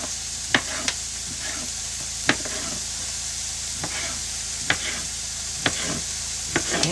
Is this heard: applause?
no